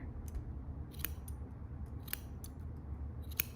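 Scissors trim yarn on a handmade gnome ornament, with a handful of crisp, close snips spaced irregularly over a quiet background.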